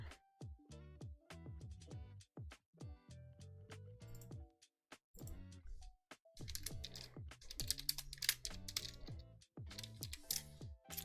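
Clicky mechanical computer keyboard being typed on in bursts, quick close clacks with brief pauses, mixed with background music.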